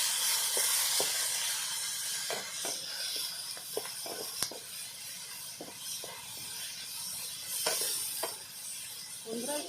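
Five chopped garlic cloves and a large tomato cut into pieces fry together in a pan, giving a steady, steamy hiss dotted with irregular sharp pops and crackles, heard up close with no speech.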